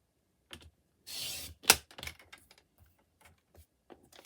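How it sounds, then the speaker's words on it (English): A Stampin' Up paper trimmer slices through card stock with one sustained swish of the blade, surrounded by sharp clicks and taps as the card and trimmer are handled, close and quiet with no talking. "Now my Stampin' Up trimmer is absolutely fantastic."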